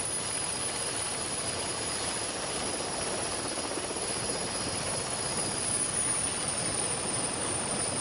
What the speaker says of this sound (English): The event helicopter, called into action to fly in parts for the stricken Turks, keeps an eye on the trekkers